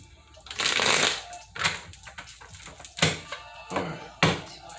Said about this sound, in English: I do so much shuffling though